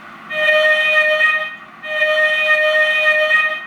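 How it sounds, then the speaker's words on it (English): Southern Railway steam locomotive whistle played by an Econami UK DCC steam sound decoder, two loud clear tonal blasts, a longer one then a second, with a brief gap between them. "that's the Southern Railway whistle there"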